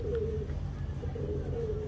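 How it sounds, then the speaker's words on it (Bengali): Pigeons coo nearby in low, soft, rolling phrases, two coos in quick succession over a quiet, steady background. "তো যে চিনবে সে বুঝতে পারবে অবশ্যই যে কী ধরনের পায়রা আছে।"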